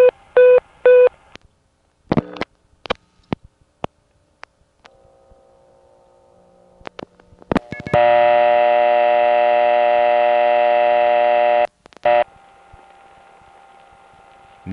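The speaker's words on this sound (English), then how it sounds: "the background sound that you hear while you're dialing numbers from this exchange" Telephone dialing through a 1970 crossbar exchange: bursts of touch-tone beeps and clicks, then a long steady tone and switching noises, loud and close with no talk.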